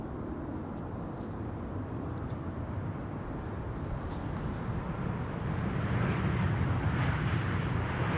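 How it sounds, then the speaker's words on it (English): Emirates A380 airliner taxiing at Amsterdam Schiphol Airport, a steady broadband jet engine roar heard from a distance that slowly swells louder toward the end, with no voices. "The Emirates A380 has cleared the runway. Now taxiing to its parking."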